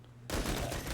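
Video game gunfire aimed at an enemy, a sudden dense burst of rapid shots that starts after a short quiet moment and then fills the rest of the clip loudly.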